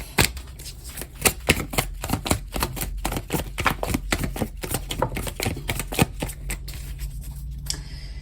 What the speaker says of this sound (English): let's get your tarot cards